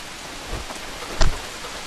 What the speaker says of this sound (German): Bei mir hat es gerade geregnet, jetzt ist wieder Sonne.